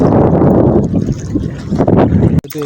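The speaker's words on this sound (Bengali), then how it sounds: "নদীতে কি পরিমাণে ঢেউ হচ্ছে।" Strong wind roars across a wide river with waves in the afternoon, heard from a boat: a loud, steady rushing buffet against the microphone, ending in a sudden cut.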